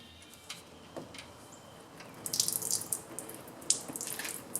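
Watery oil drains from a pressure washer engine as a faint trickle and splatter that grows busier partway through, with a few small drips and clicks.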